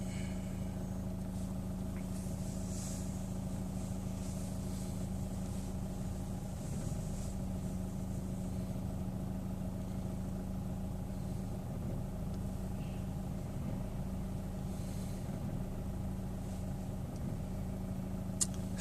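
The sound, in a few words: Chevrolet Orlando car engine running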